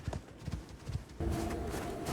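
Horse hooves clip-clop in a steady trot in the Icarus survival game, faint and rhythmic over a low background hiss that thickens partway through.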